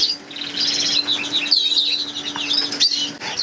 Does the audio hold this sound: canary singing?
yes